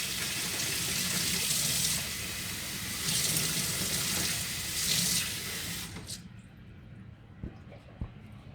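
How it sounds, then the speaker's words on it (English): Cold tap water runs steadily into a sink over a soft rubber figure, a loud broad gush that swells and eases before cutting off, followed by a few faint knocks and handling sounds. "it's always good to run under cold water just to get it nice and hard again."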